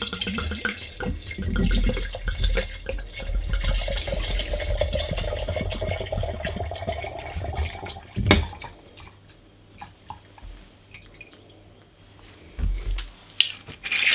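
White Bacardi rum pours into a citrus-infused pirate grog mix, a steady liquid trickle that fades out, followed by quiet clinks and small handling noises.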